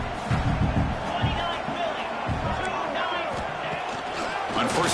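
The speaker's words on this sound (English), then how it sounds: "Here comes the crowd noise, trying to help this defense out." A continuous roar of stadium crowd noise rises behind the defense at an American football game, steady and dense across the whole stretch, with a commentator's voice mixed faintly in.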